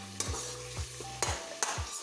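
Green chillies fry in a pan under a soft continuous sizzle broken by four distinct scraping stir strokes, close and fairly quiet, with no voices.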